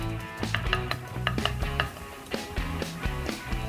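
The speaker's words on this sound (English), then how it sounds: "Mix it up." A spoon stirs a tablespoon of palm sugar into a chili sauce mixture for boiled chicken with sweet soy sauce, giving soft repeated scrapes and clinks over steady background music.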